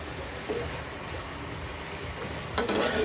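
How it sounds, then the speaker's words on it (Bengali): Mustard hilsa curry with green chillies and a bay leaf being stirred in a pan, a steady close sizzle with a few scraping clinks of the spoon against the metal near the end. "আবারও একটু নেড়ে চেড়ে নিচ্ছি।"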